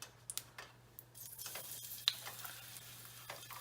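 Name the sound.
green chili and garlic frying in hot oil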